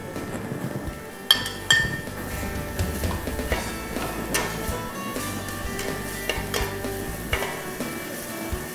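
Shrimp seasoned with salt and pepper frying in a pan, a steady close sizzle with a spoon or spatula scraping and clinking against the metal in irregular strokes.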